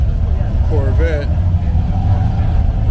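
A Chevrolet Corvette's engine giving a continuous deep rumble as it passes close by during a car cruise, with a voice talking briefly over the engine.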